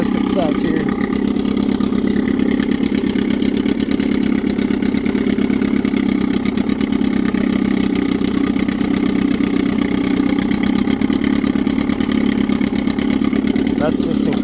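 A smooth-running motor idles at a steady, even rhythm, close and fairly loud. The drone holds unchanged for the whole stretch with no revving.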